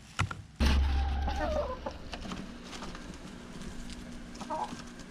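Chickens cluck and squawk close by while eating grubs, a burst of loud low thumping early on, then softer scattered clucks and rustling continue.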